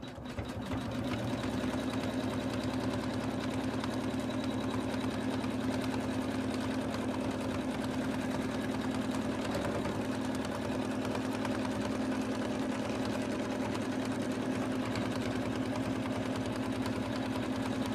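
An embroidery sewing machine stitches a snowman stocking in the hoop, giving a continuous, fast mechanical whirring hum with rapid needle ticking, steady and close for the whole stretch.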